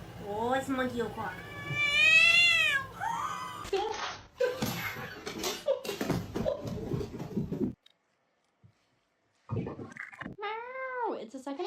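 A cat meows repeatedly in loud, drawn-out, wavering cries, some rising into caterwauling, with a brief quiet gap before a final meow; a voice is heard in the scene.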